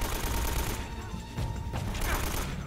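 Dense automatic gunfire from a shootout in the action video game Uncharted: Drake's Fortune, loud sustained bursts with brief pauses and a voice faintly underneath.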